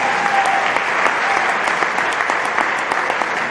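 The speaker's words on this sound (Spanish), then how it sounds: "un aplauso para la escuela de evangelización" A church congregation applauds the evangelization school during a Holy Hour homily, with loud, dense clapping from many hands holding steady the whole time and no talking.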